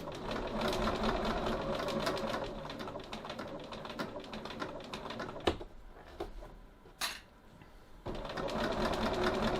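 A sewing machine stitches through thick fabric in rapid rhythmic bursts, close by and loud. The stitching pauses briefly with a couple of clicks before resuming.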